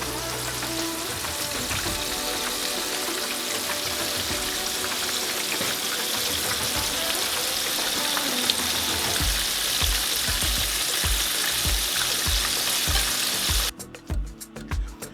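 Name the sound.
chicken pieces frying in a pan for orange chicken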